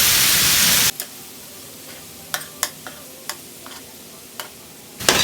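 Beef seared in a hot pan for sashimi, a steady close sizzle with scattered sharp ticks and pops from the fat, loud at the start and end, no talking.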